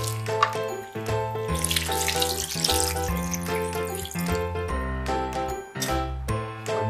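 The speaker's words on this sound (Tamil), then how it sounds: "நம்ம கொஞ்சம் தண்ணி ஊற்றிக்கலாம்" Water pours steadily into a pan of chicken gravy, a continuous splashing stream heard close up, with tonal background music running underneath throughout.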